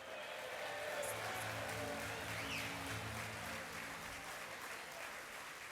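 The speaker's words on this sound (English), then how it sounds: "let's do another round of applause" An audience at the U.S. Astronaut Hall of Fame gala applauds the induction sponsors with dense, sustained clapping, steady and even throughout, with faint tonal music or hum underneath.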